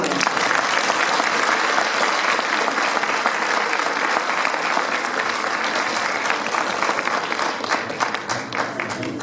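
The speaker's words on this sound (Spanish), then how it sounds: "Un aplauso muy grande." A large congregation at an evangelical church anniversary service breaks into loud, sustained applause, with dense steady clapping filling the room from start to finish and a few voices faintly audible within it.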